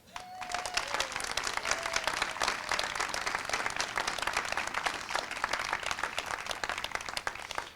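An audience at an elementary school open house applauds, a dense, steady crowd clapping that holds for several seconds and then fades off at the end.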